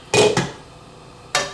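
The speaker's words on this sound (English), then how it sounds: "I'm going to put the lid back on my pan." A metal lid is set back onto a cooking pan for a rice skillet: two quick clanks close together, a pause, then a third clatter, close and fairly loud with no talk.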